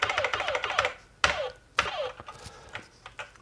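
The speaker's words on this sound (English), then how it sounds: "Got that ting, hear that ting in the keyboard?" Typing on an Acorn Electron mechanical keyboard, a few groups of sharp key clacks, each with a bright ringing ting, followed by lighter scattered taps close by.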